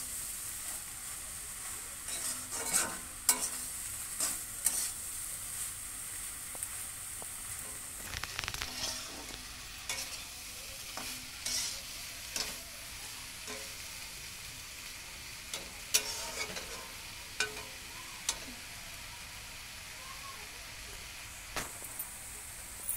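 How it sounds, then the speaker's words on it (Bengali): Fried prawns stirred in a hot pan give a steady oily sizzle, broken by scattered scrapes and clinks of a spatula against the metal, close by and with no one speaking. "দিয়ে দিচ্ছি ভেজে রাখা চিংড়িগুলো। ভালো করে আমি এবার নাড়াচাড়া করে নেব।"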